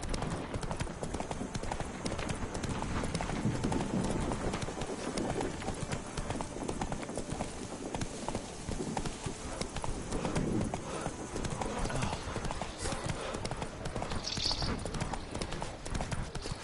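Roach, the horse in The Witcher 3, galloping with a continuous rapid clip-clop of hooves, steady and close for the whole stretch over ambient game sound.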